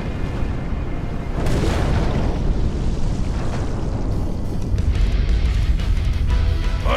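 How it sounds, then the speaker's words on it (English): A heavy explosion in The TakeOver video game erupts as a loud, sustained low rumble and roar, followed by rolling booms and debris-like crackle that continue to the end. "know enough about explosions to recognize one!"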